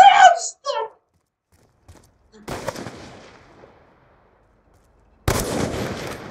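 Sniper rifle fire in the video game Black Ops 2, two sharp loud shots with decaying tails about three seconds apart, following a short burst of voice at the start.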